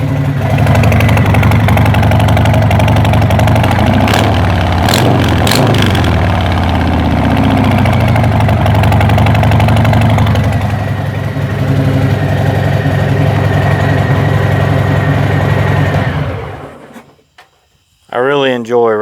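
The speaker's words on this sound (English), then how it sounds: "Pretty smooth running bike." A Harley-Davidson motorcycle engine idles with a loud, close, steady low rumble for about sixteen seconds, with a brief rise partway through, then cuts off near the end. The bike is either a 2007 883 Sportster or a 2020 Heritage Classic 107.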